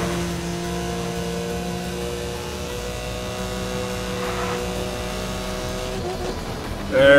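In-game Porsche 911 Turbo 3.0 from Need for Speed: Most Wanted (2012) holds a steady, loud engine drone with sustained harmonic tones, rising into a sharper rev near the end.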